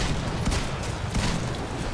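Gunfire in the video game Titanfall, a dense, noisy burst of rapid shots and impacts filling the whole two seconds, loud and close with no talk.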